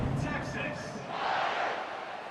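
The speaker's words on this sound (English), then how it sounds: "this crowd is buzzing after that last score" A stadium crowd in the College Football 26 video game buzzes with a broad, steady roar, swelling slightly mid-way, while an announcer's voice talks over it at the start.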